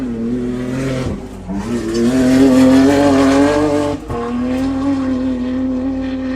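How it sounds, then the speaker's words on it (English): Race car at the Waikerie Riverland Enduro off-road event crossing the line, a loud sustained engine drone with rising revs, a brief dip near the four-second mark, then steady roaring again. "Car 85 of Todd Lehman. Crossing the line, 1 more lap to go for Todd Lehman."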